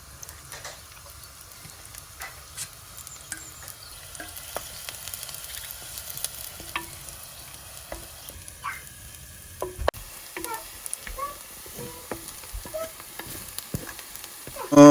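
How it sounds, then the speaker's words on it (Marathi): A chopped onion frying in hot oil in a pan for a Konkani prawn and mango curry, a quiet, steady sizzle with occasional light clicks and stirring taps. "आनी तेल गरम जाले उपरांत आमी कांदो घालया आनी तळसून घेवया."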